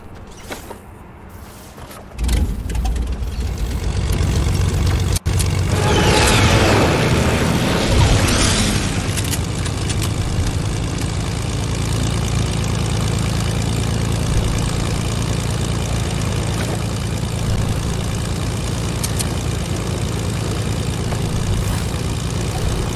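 Airplane engine flies overhead in a PS4 console multiplayer game, a loud steady propeller drone that swells in after a couple of seconds and holds constant for the rest of the stretch.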